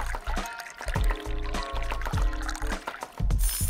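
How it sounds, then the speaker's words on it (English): Tea pouring in the video game Dave the Diver gives a bright, liquid trickle and splash over bouncy background game music with rhythmic bass notes, lasting a few seconds. "Pour some tea."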